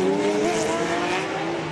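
A Lamborghini Gallardo V10 race car in a 2010 Australian GT race brakes hard into turn 9, its engine note falling in pitch through the downshifts as tyres squeal faintly, close and loud, with no voices.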